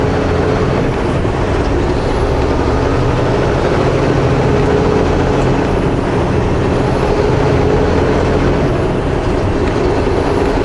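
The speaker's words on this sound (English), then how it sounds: "Just trying to spin the tires there." A truck in snow tries to spin its tires, and its heavy engine roars loud and unbroken from start to finish with no pauses.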